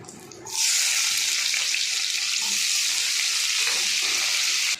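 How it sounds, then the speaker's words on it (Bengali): Onions and cumin seeds frying in hot oil in a pan for a homestyle Bengali egg korma, a loud, steady sizzle that starts abruptly and holds evenly with no talk. "একটু জিরে ফোড়ন দিয়ে পেঁয়াজগুলো ভেজে নেব ব্রাউন ব্রাউন করে।"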